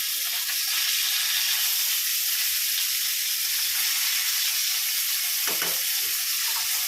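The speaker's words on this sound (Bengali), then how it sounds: "ওখানে মাছ ভাজতে বসিয়ে দিয়েছি আমি" Fish fries in a pan with a loud, continuous hissing sizzle that stays steady throughout, close by, with a brief clatter of a utensil near the end and no talking.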